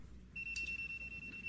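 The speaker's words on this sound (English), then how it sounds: "that's the smoke alarm in Sophia's room" A smoke alarm sounds in a bedroom as a thin, high, continuous electronic tone, steady and fairly faint under a low room hum.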